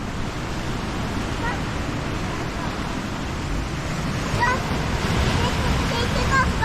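Ocean waves surge and crash steadily against the rocky coast at Hualien, a continuous broad roar mixed with wind buffeting the microphone, loud and close throughout.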